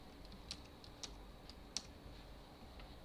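A computer keyboard gets a few sparse, faint clicks as a spreadsheet formula is typed, with separate keystrokes spaced roughly half a second apart over a quiet background.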